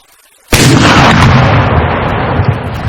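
A single loud gunshot from a weapon in a World War II mod for the video game Arma 3, a sharp close blast followed by a long rumbling echo that slowly fades.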